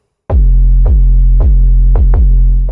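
A loud, deep 808 bass note with a tape-stop effect and a clipper is hit five times in a steady rhythm, each booming tone sustained into the next, heard alone.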